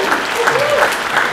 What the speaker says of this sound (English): Big round of applause for me.